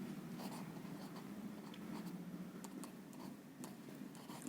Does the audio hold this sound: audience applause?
no